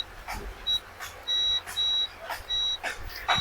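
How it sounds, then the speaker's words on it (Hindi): A multimeter's continuity buzzer beeps while a switch on an LG inverter front-load washing machine PCB is tested, giving a series of sharp high-pitched tones, some short and some held longer, in an irregular rhythm over faint background noise. "मीटर को बजर पे लगा के उसके बाद हम इस स्विच को एक बार पुश करके देख लेंगे"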